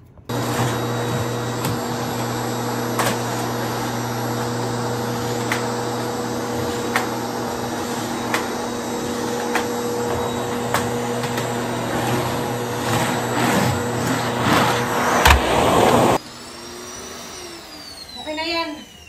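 A vacuum cleaner runs loudly and steadily for a long stretch with periodic clicks and bumps, then cuts off, leaving quieter handling noises.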